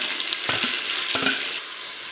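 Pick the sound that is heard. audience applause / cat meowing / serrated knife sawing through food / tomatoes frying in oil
tomatoes frying in oil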